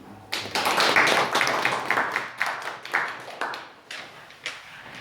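An audience at a lecture claps to welcome the speaker, a scattered burst of hand claps that swells, then thins out and tapers off over a few seconds.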